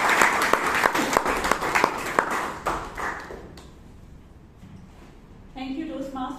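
An audience at a Bangalore Toastmasters meeting bursts into a short round of applause, brisk clapping that fades out after about three seconds before a voice begins speaking.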